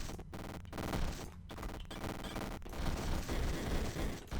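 Enemies shooting in the twin-stick robot shooter NeuroVoider: rapid bursts of gunfire crackle in quick succession, broken by short gaps, loud and busy with layered shots and impacts.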